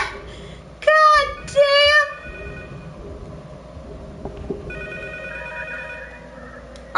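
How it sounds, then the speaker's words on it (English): A telephone rings in a ghost-hunting video game, two loud bursts of bell-like ringing near the start, followed by quieter game ambience with a faint electronic tone. "come on, answer the phone!"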